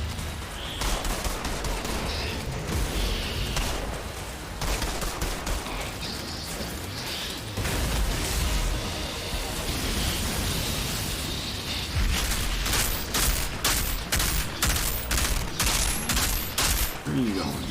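Pistol fire in the shooter game Outriders, mixed with explosions and dense combat noise, loud and continuous, with rapid evenly spaced shots toward the end.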